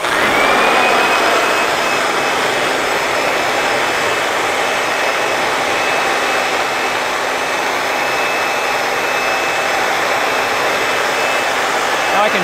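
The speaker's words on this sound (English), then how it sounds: "maybe I need to fold this rim over so I've got a good seal around the neck of the blower" A blower inflates a giant balloon, its loud, constant whooshing roar running unbroken and close throughout.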